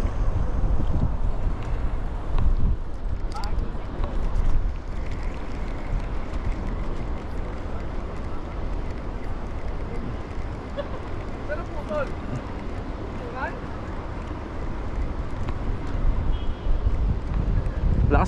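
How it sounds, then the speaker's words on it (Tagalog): Steady, roaring wind buffets the microphone across the whole stretch beside a fishing canal, with people talking now and then underneath the rush of air. "Lakas pa ng hangin."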